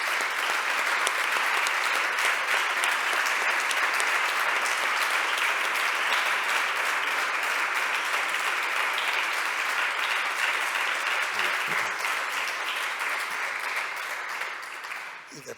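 Sustained applause from a large audience at a national party convention of Spain's PP, following a speech on judicial independence; loud, dense and steady for about fifteen seconds before tapering off at the end.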